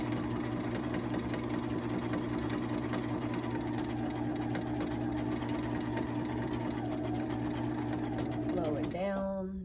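Sewing machine running steadily while stitching an apron, a close continuous mechanical hum and needle chatter that stops abruptly near the end, with a voice talking over it.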